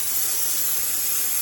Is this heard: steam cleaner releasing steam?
yes